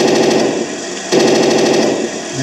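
A toy Leopard 2A6 tank plays its electronic machine-gun effect, a loud rapid rattling burst that pauses briefly near the middle and then resumes.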